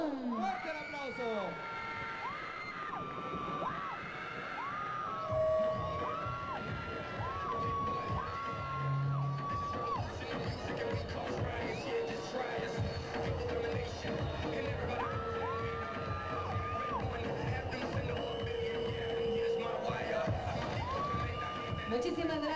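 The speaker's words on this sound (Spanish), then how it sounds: "¡Fuerte el aplauso!" At a Señorita Villa Nueva 2013 beauty pageant, a crowd cheers, whoops and shouts in a sustained roar for a prize winner, with loud amplified music and an announcer's voice running over the noise throughout.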